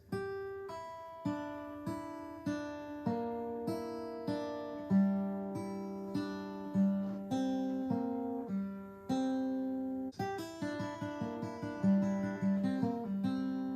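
Acoustic guitar picks the intro of a song alone, single notes and chords ringing and overlapping at a moderate, even pace.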